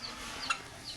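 Hens, parents of newly hatched chicks, give a brief faint cluck on a farm, heard quietly against soft background noise.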